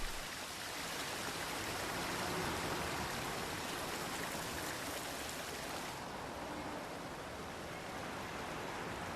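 Bubbling water of a spring in the middle of a city, a steady broadband rushing and gurgling that holds even throughout, slightly softening in the last few seconds.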